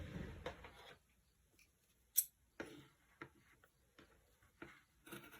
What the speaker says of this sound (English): I need some fabric scissors.